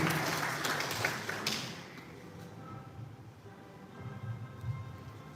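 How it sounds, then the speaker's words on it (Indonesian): An audience at a live design and business talk claps for a speaker, loud at first and then fading after about two seconds into quieter room murmur and scattered noise. "saya mohon tepuk tangan yang meriah untuk Bidewa Purwita."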